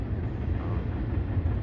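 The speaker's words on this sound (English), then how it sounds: "you can see a train going by. That's what's making all these loud sounds." A train rumbles past beyond a stand of pine trees along a lakeside loop trail, a loud, steady low roar that continues without a break for the whole moment.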